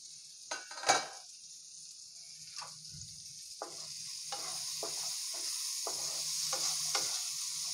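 Vegetables for masala rice fry in a pan, a continuous sizzle broken by several sharp scrapes and stirs of a utensil against the pan, close and fairly quiet.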